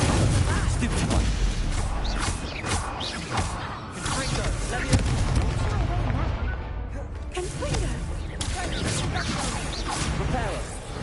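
Fiery spell blasts of Incendio in the wizarding game Hogwarts Legacy, with dense crashing whooshes and impacts layered over continuous combat noise, loud and busy for the whole stretch, voices mixed in.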